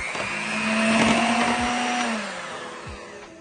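An electric mixer whirs steadily as lime zest is worked into a sugar-free key lime pie filling, its motor pitch sinking slightly before it winds down.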